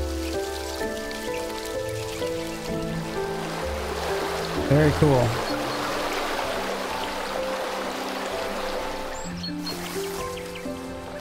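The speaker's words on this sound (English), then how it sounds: "Get that water in there." Water pours and splashes into a mechanism in the Botany Manor video game, a steady rushing trickle over soft background music, with brief talk over it.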